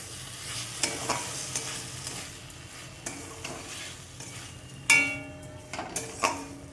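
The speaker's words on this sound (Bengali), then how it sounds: "এবার এটাকে নাড়তে থাকবো।" Chutney stirred in a pan makes repeated scraping and tapping strokes over a faint sizzle, with a sharper clatter of spoon against metal toward the end.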